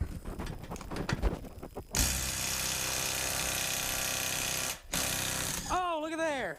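A DeWalt Extreme 12-volt 3/8-inch cordless impact wrench runs in a sustained loud hammering burst after some clattering handling, with a short pause, then another burst and a brief whirring wind-down.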